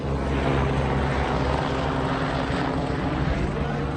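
Small propeller aircraft from a nearby flight school droning overhead, a steady loud engine hum and rumble holding for several seconds, outdoors near a car being worked on.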